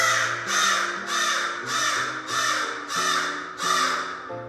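A crow caws repeatedly, about seven harsh calls in a steady rhythm, fairly close and clear, with a low tonal hum underneath.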